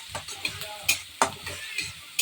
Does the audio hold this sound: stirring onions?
yes